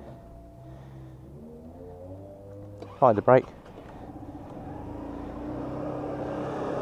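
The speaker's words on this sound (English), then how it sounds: "And a nice little purr to that engine." A Lexmoto Chieftain 125cc motorcycle engine starts with a brief burst of clicks and cranking, then settles into a steady low idle that rises slightly; someone speaks over the start.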